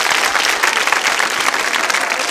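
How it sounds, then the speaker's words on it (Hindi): Steady, loud applause from an audience at a college quiz show, a thick wash of many hands clapping continuously throughout. "तालियां नेहा जी के लिए जोरों से बजाइए"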